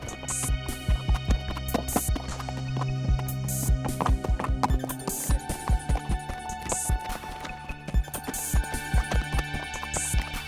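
Cartoon-style horse hoofbeats gallop in a steady, fast clip-clop rhythm over a continuous musical background, loud and close throughout, with no talking.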